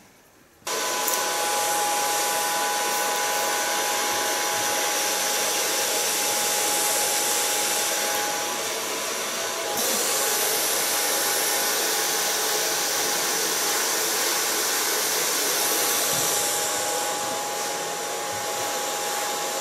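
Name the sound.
hair dryer drying bleached hair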